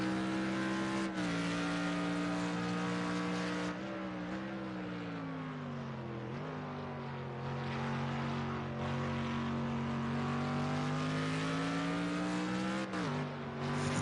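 A GT3 race car engine in the video game Project CARS 2 drones steadily at high revs, its pitch dipping and climbing through gear changes, loud and continuous with no voices.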